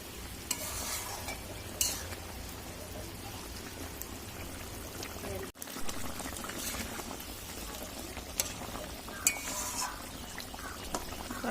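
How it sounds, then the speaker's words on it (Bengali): Onions darkened in a pan for rohu fish curry are stirred steadily, a continuous scraping and faint frying hiss with occasional louder clatters and one brief gap in the middle. "পেঁয়াজগুলোকে ভালো করে চারি সাইডে মিশিয়ে দেবো"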